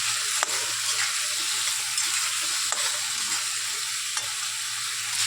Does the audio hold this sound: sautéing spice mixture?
yes